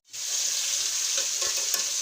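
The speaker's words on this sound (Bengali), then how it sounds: "দেখুন মাংসটা কিন্তু ভাজা হয়ে গেছে।" Chicken pieces frying in a pan with oil, being stirred, for a hotel-style chicken curry with lentils; a steady, loud, close sizzle runs throughout with a few stirring scrapes and no talk.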